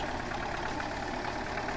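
A crawler tractor's engine in Farming Simulator 2013 runs at a steady, moderate drone, close and continuous with no speech.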